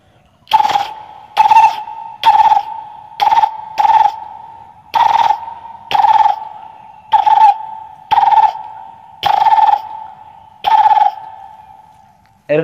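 A man imitates a green parrot's dawn calling by voice, giving about eleven sharp, loud, evenly spaced shrill calls alone with no talk.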